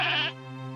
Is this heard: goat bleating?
yes